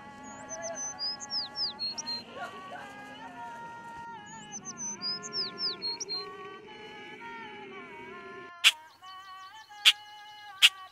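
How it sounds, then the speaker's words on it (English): Birds in a valley in Oman chirp and tweet in repeated high, bright phrases over a steady hum, with sharp clicking ticks toward the end. "There's a wide variety of birds in the area."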